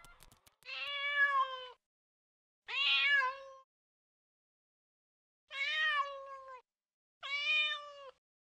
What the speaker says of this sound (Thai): แมวร้องเหมียวเหมียว